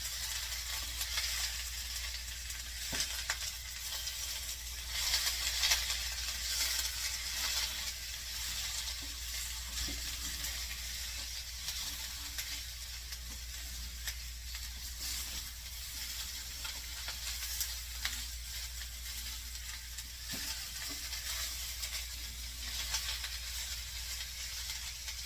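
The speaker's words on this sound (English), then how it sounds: "It won't take long for the corn to heat up and cook." Kielbasa, potatoes and corn frying together in a slightly too-small skillet give off a steady, soft sizzle and hiss that runs evenly throughout with no voices, plus a few faint clicks.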